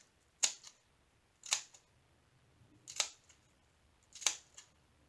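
Scissors snip through diamond painting paper in four separate, evenly spaced crisp cuts, each a sharp close click with a faint after-tick, in a quiet room.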